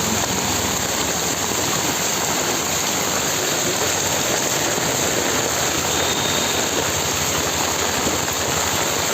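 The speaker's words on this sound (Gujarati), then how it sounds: "અત્યારે તો વરસાદ તો બહુ આવી રહ્યો છે" Heavy monsoon rain pouring down in Junagadh, a dense, constant roar of water with no pauses, loud and enveloping with no voices.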